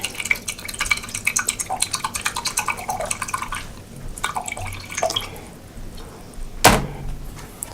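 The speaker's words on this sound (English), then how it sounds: "going in with a 1/3 cup of vinegar and a 1/3 cup of reverse osmosis water" Vinegar and reverse osmosis water are poured into a repurposed container, heard as soft irregular drips and splashes with a few louder liquid plops and a sharp knock near the end, close and quiet.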